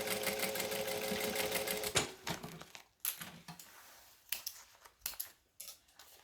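A sewing machine stitches a bag, first in a long continuous run, then in several short, sharp bursts separated by pauses.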